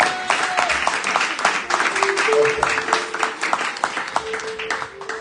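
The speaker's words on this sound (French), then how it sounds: "Tu peux acclamer très fort le nom du Seigneur Jésus" A church congregation applauds and cheers in acclaim, a dense wash of clapping with voices mixed in throughout, loud and continuous with a steady rhythm.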